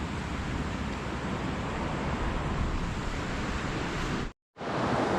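Rushing water of a river roars continuously like a strong current, a broad steady noise that briefly cuts out near the end.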